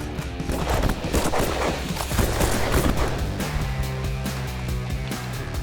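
Gunshots fired while duck hunting mix into a dense, noisy outdoor scene, with rapid cracks and booms over steady background clutter.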